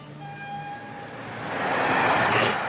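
A train approaches on a railway, a horn-like tonal hum giving way to a rising rumbling roar that builds and stays loud to the end.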